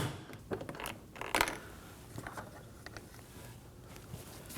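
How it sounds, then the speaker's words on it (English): A 10mm socket wrench backs a bolt out of a 2017-2024 Nissan Armada front door, a few quick close ratchet clicks and metallic taps over a short stretch, no talking. "Using a 10mm socket, go ahead and take that out."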